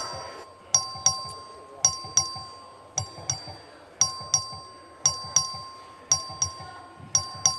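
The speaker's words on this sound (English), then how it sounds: "The clerk will ring the bell." A bright electronic voting bell chimes repeatedly in quick two-tone bursts in the Texas House of Representatives chamber, evenly spaced, with soft low murmuring in the background.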